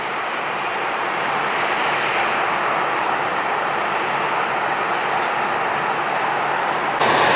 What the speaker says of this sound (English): Looks like we got a Southwest special livery headed our way to 1 right.